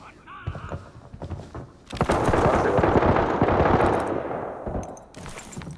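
Gunfire in the video game Arena Breakout, rapid automatic bursts with sharp distinct shots, a sustained roaring volley in the middle, fairly loud, with some talk around it.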